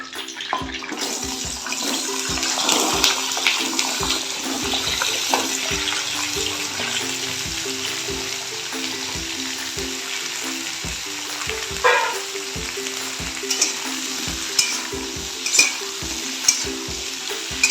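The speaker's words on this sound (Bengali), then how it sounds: "এগুলো একটু গরম হলে শিম আলু কড়াইশুঁটি আমি একসাথেই ভেজে নেব।" Flat beans, potatoes and peas fry together in a wok with a loud, steady sizzle, and stirring adds scraping and occasional clinks near the end.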